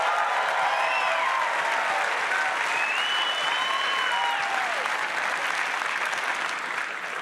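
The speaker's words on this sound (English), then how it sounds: "So I just want to give yourselves a round of applause." A large crowd at a political book-tour evening gives a sustained, dense round of applause, a continuous wash of clapping at an even level, with a few whoops and cheers rising above it.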